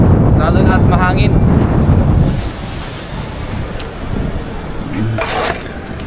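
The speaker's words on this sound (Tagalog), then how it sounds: "Lamig. Lalo na at mahangin." Strong, cold wind buffeting a microphone outdoors in Changhua, Taiwan, heavy low rumbling gusts that ease after a couple of seconds, with brief bits of voice over the top.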